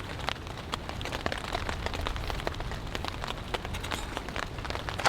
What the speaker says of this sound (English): it's raining, but it's not all that heavy